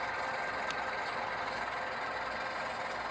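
Model Alco C-415 locomotives with ESU sound decoders give off a steady diesel engine rumble, continuous and moderately loud, with faint metallic clicks over it.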